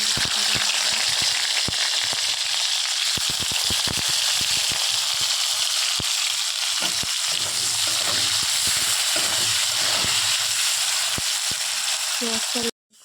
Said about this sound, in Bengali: বন্ধুরা আমার পেঁয়াজ ভাজা কমপ্লিট